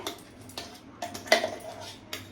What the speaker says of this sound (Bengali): এখন আমি বাটির মধ্যে এভাবে করে চামচ দিয়ে নিয়ে নিচ্ছি